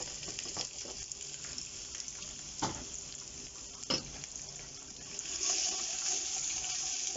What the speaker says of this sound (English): Make sure you hear the sizzle, you know your pan is nice and hot.